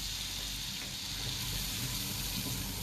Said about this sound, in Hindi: जैसे हमारा बटर गरम होता है, हम इसमें क्यूमिन सीड्स डालेंगे